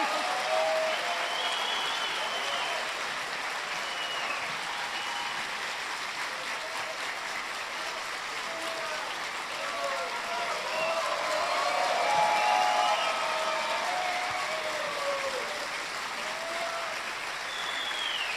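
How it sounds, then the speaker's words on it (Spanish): An audience at a liberal-themed talk fills the hall with sustained applause, dense clapping that holds steady for about eighteen seconds and swells slightly near the end, with no speech over it. "Me siento honrada por los aplausos"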